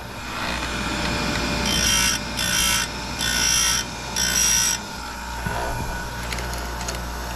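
An Oregon 511A professional chain grinder sharpens chainsaw teeth, its motor humming steadily. Four bright, harsh grinding bursts, each about half a second long, come one after another as the wheel touches successive teeth.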